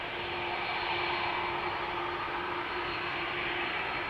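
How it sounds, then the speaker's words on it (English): Jet engines of an approaching Airbus A330 at Amsterdam Schiphol Airport give a steady, distant roar with a constant whining tone, holding level throughout without speech. "Already you can hear them well in advance. The engines of another A330 coming this way."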